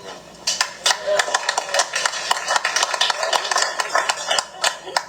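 Audience applause at a 2024 mayoral forum, a loud, dense spatter of clapping hands lasting several seconds, with scattered louder claps throughout.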